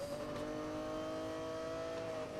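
A car engine in the racing game Need for Speed: Most Wanted drones at a steady high pitch with a whooshing boost layered on, holding continuously without letting up.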